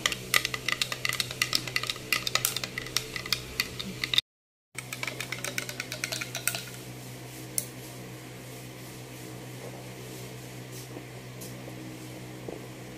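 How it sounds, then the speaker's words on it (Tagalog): A spoon stirs Vita Plus guyabano health drink powder in a glass with rapid clinking taps for several seconds, then the stirring fades to a quieter swirl with an occasional faint clink. "Haluin lang natin yan ng mabuti."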